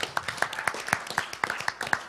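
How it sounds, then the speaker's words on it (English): A church congregation applauds a newly introduced ministerial associate intern, producing a steady run of evenly spaced, moderately loud claps that carry through the whole stretch without any talk. "So let's give him a round of applause."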